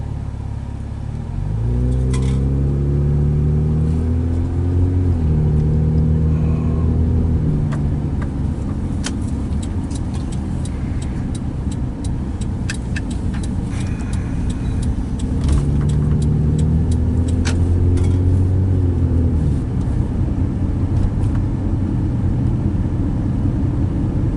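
A car drives steadily with a continuous engine rumble and road noise throughout, the engine note rising in pitch as it accelerates and shifts through gears, close and loud.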